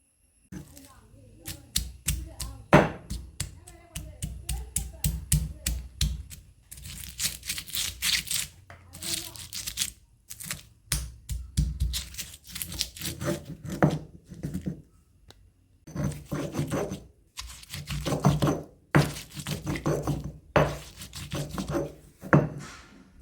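Bird's eye chilli chutney with shallots and rock salt being ground by hand, heard as rhythmic rasping, scraping strokes that come in repeated bursts with short pauses.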